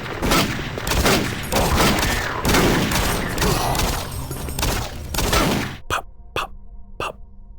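Rapid bursts of Doom 3 enemy gunfire rattle on for several seconds, then three sharp, isolated shots ring out with brief echoing tails.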